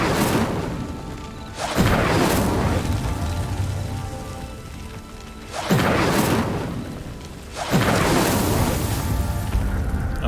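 Incendiary spell flames engulf a pyre in Hogwarts Legacy: a continuous fiery roar swells into three loud whooshing bursts, spaced a few seconds apart.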